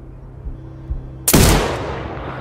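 A sniper rifle shot in the video game Sniper: Ghost Warrior Contracts 2 arrives as a single loud, close blast after a low steady hum, then fades into a lingering rumbling tail.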